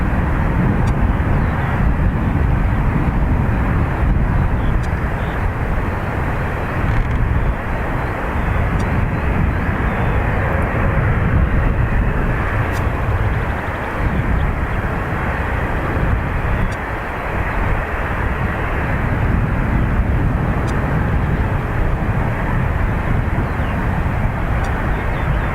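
A TAP Embraer jet departing Dublin Airport for Lisbon: a loud, continuous engine roar with broad rumbling noise that holds steady throughout, close by and uninterrupted.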